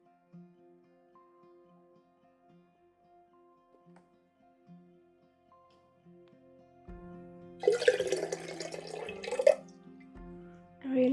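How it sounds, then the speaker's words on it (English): Water pours in a short burst of splashing, loud and close, after several seconds of near silence with faint tonal sounds, then stops briefly and resumes toward the end. "I really gotta find a way to incorporate that water pouring in a cool, beautiful way."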